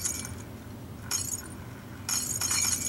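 Glass bottles shatter in the Happy Wheels video game in two bright, crashing bursts of breaking glass and tinkling shards, one short and one longer, over a low background rumble.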